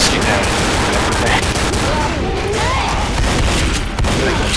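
Rapid, dense gunfire from the video game Left 4 Dead, with pistols among the weapons, fills the whole stretch as a loud, continuous barrage of overlapping shots and crashes.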